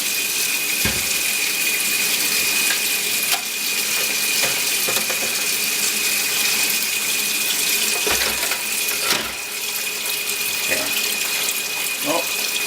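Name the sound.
cold tap water running into a container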